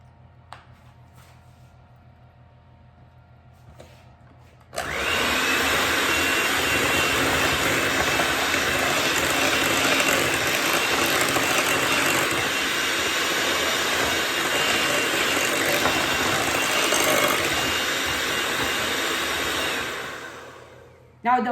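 An electric hand mixer beats banana bread batter with butter and eggs, a loud steady whir starting abruptly and running continuously for about sixteen seconds before cutting off.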